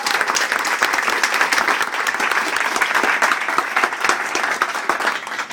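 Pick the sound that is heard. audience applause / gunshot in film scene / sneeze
audience applause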